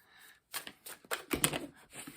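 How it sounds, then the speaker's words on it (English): Oracle cards being shuffled by hand, a quick run of soft papery riffles and flicks in irregular bursts, close and fairly quiet, with no talking. "we're going to shuffle until 3, 4, maybe 5 cards fall out"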